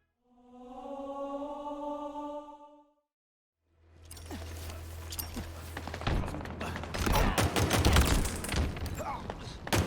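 Battle rifle fire from Halo Infinite: after a short tonal cue and a brief silence, a low hum gives way to rapid, dense bursts of impacts and booms that grow louder toward the end.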